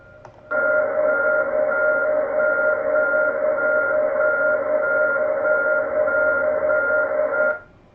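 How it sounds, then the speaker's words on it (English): A steady electronic beep tone received over shortwave radio holds for about seven seconds, two bright pitched lines pulsing in a regular on-off rhythm over a hiss of static, loud and alone without talk. "There's an interesting beep here."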